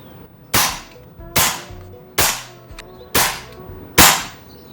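A BRK Ghost air rifle firing ZAN slugs, five sharp, loud cracks spaced just under a second apart, each with a short fading tail, heard alone with no talking.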